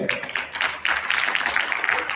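An audience claps at a Hindi award ceremony after a thank-you speech, dense applause of many hands swelling midway and holding steady, with some voices murmuring underneath.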